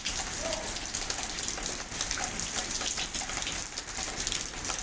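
Heavy rain soaking an outdoor garden and running in with water, a continuous dense patter and hiss that stays constant throughout, moderately faint and with no voices.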